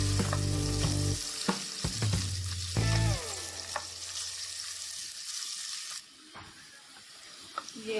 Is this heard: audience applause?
no